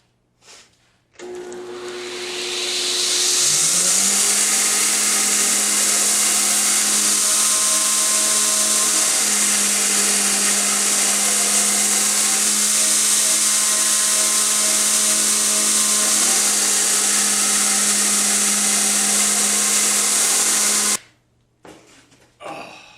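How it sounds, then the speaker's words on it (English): A belt grinder works a cable Damascus EDC knife blade, grinding down delaminations: a steady loud whine and abrasive hiss that starts after a second, holds for about 17 seconds without talk, then cuts off. "I'm going to clean it up a little bit on the belt grinder"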